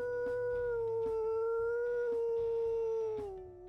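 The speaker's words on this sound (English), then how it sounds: "Bit of a deeper howl." A deep, sustained wolf howl in the video game WolfQuest, one long steady tone that slowly falls at the end, heard over a faint rhythmic game background with soft clicks.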